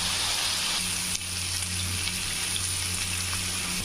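Chicken pieces for tikka masala fry in a pan with a loud, continuous, even sizzle and a faint low hum underneath.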